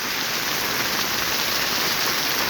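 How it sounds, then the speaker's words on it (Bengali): Heavy downpour drumming on an umbrella, a dense, steady hiss of rain close by with no pauses. "তো মুষলধারে বৃষ্টি, ছাতা ভেতরে বৃষ্টি পড়তেছে"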